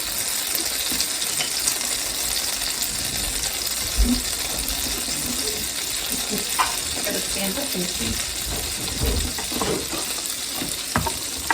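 Shallots fry in hot butter and olive oil with a soft, steady sizzle that sits under a person talking, along with occasional clinks and stirring knocks from the pan.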